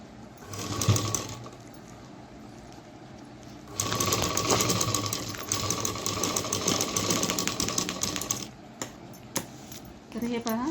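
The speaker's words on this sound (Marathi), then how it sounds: "मी आता शिलाई मारून घ्यायची आहे" Domestic sewing machine stitching a shopping bag made from an old gown, running in two loud bursts of rapid mechanical stitching, the first short and the second longer, with clicks and handling noise in between and after.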